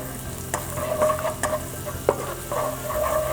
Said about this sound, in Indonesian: Pada saat menumis bawang putih, pastikan Anda harus mengaduknya terus-menerus supaya dia akan matang secara merata